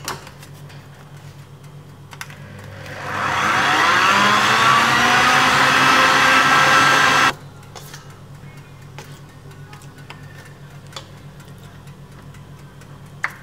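An electric mixer whips chocolate cream for a chocolate cake, starting abruptly and running with a steady, close whir for about four seconds before cutting off, with only faint clicks and room noise around it.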